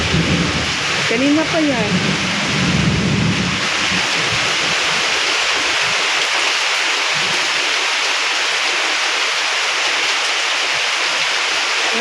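Heavy rain pours in a dense, steady roar with thunder, continuous and loud throughout, while a person speaks briefly early on.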